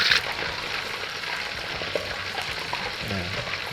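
Thai fish cakes deep frying in hot oil, a steady crackling sizzle with a few faint clinks, close up and without talking.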